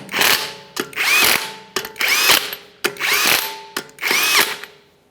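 A power tool spins 22mm lug nuts onto an Acura MDX wheel in five separate whirring bursts, each rising in pitch and ending in a short clatter, close and alone.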